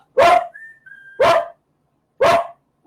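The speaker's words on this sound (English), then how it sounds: "What's he barking" A dog gives three loud, close barks spaced about a second apart, with a brief thin whistle-like tone sounding between the first two.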